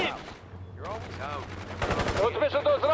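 Gunfire in the war strategy game World in Conflict crackles in a short, rapid burst near the middle, set among other battlefield effects and tonal, voice-like sounds.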